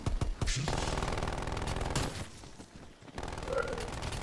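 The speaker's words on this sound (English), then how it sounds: "Placing sentry turret." A sentry turret fires rapid automatic bursts in Black Ops Cold War Zombies, a loud, dense rattle that runs almost without pause, with brief dips in the stream of shots.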